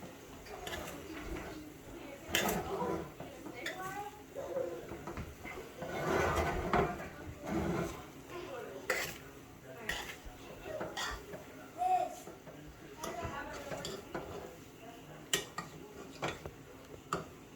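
A spoon stirs rice with pigeon peas in a cooking pot, making a string of scrapes, taps and clinks against the pot at an irregular pace, with faint voices in the background.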